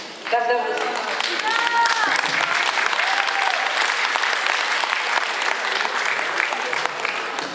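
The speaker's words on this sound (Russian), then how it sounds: "слышать ваши прекрасные аплодисменты" Concert audience applauds in a hall at a vocal-instrumental ensemble's performance, a dense, steady wash of many hands clapping throughout, with brief whistle-like tones and a few voices early on.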